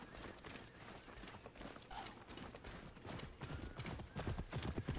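Horse hooves clip-clop steadily in Assassin's Creed Origins, a continuous trotting rhythm with faint mechanical clatter underneath, growing slightly louder toward the end.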